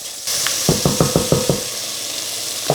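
Tomato paste sizzles in a pan as it cooks for a sauce, a steady close hiss with a rapid run of about six soft stirring scrapes in the middle, no talking.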